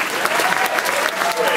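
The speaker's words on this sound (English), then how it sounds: "Applause for Gil." An audience at a medical school talent show claps and cheers in a loud, dense burst of applause, with crowd voices blended in and no pause.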